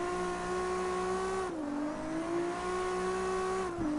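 Car engine in the CarX Drift Racing video game holding a drift, a steady loud revving drone whose pitch dips twice as the throttle and e-brake are worked, with a faint hiss of tyre noise throughout.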